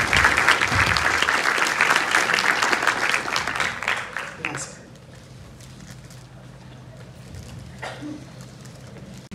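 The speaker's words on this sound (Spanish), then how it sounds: "Un fuerte aplauso para ella." At a nursing capping ceremony, an audience gives loud, dense applause that fades out after about four seconds, leaving a quieter room with scattered small noises and some talk.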